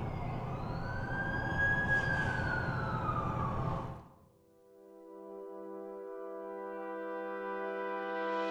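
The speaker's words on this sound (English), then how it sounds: "That's the ambulance I called." Wailing ambulance siren from the PC game The Amazing Spider-Man 2, a loud rising and falling tone for about four seconds that cuts off abruptly, followed by a quiet sustained musical drone.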